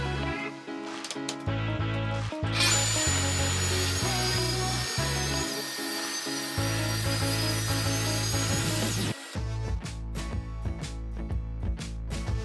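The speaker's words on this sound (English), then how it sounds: "The next step was to square sides of the slab, which I did with a Festool ROTEX RO." A Festool ROTEX sander squares the sides of a wooden slab, a continuous high whirring grind of about six seconds, close and steady, set against a low rhythmic musical background that runs throughout.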